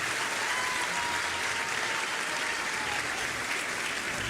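Steady applause from an audience at a speech by the new mayor of Quito, filling the whole stretch evenly and loudly with no voices over it.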